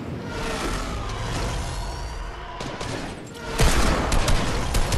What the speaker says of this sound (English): I think it hit those damn shotgun shots